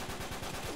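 Blind-fired gunshots in the video game Uncharted 3 come as a rapid, even burst of about eight punchy automatic shots in under a second, loud and close.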